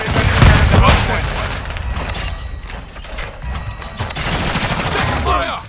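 Call of Duty Modern Warfare II gunfire crackles in dense bursts alongside mechanical clatter and booms, with radio-style voices calling out over the battle.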